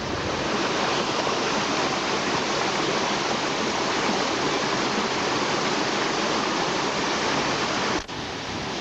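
A park waterfall roars as a loud, continuous rush of falling water, steady and close, with no speech, cutting off abruptly near the end.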